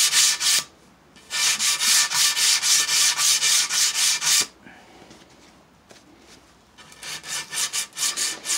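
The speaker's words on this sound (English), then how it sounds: "Now I'm just kind of catching that ceramic finished edge here, rounding it over and smoothing it out so it all flows." Rhythmic back-and-forth rasping as a ceramic tile's bullnose edge is polished and rounded smooth, loud close strokes in steady bursts separated by a pause, then quieter, quicker strokes resume.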